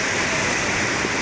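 Strong sea waves churn in a steady, loud rushing roar, close by and unbroken for the whole brief moment.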